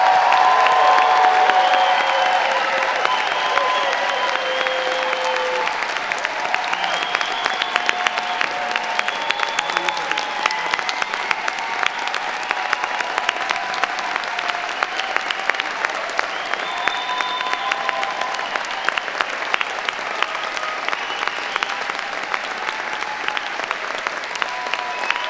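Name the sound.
audience applause at graduation ceremony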